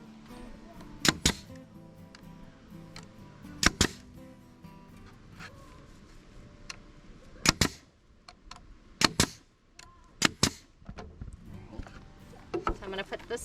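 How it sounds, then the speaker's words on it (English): Hammer blows nailing strips of reclaimed pallet wood onto a chicken coop, sharp impacts in small clusters of two or three with pauses between, over a steady background hum. "We're gonna go ahead and start nailing on our strips of pallet wood"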